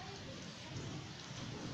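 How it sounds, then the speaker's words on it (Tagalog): Steady rain pours down during a night thunderstorm, a dense continuous hiss of drops on surfaces with low rumbling underneath and no distinct thunderclap. "Thunderstorm, lakas kanina."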